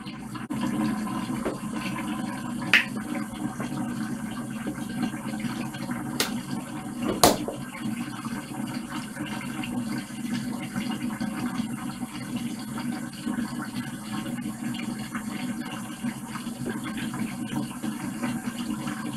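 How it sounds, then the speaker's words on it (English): Bathroom sink tap running warm water for face washing, a steady close hiss of flowing water that continues throughout, with a couple of brief clicks or knocks standing out above it. "So I'm just gonna go ahead and get my water warm, because I cannot wash my face with cold water."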